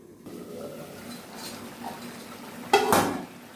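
A lid clatters onto a cooking pot of chicken masala kasa in a home kitchen, a sharp metallic clank near the end after soft stirring and light cookware noise.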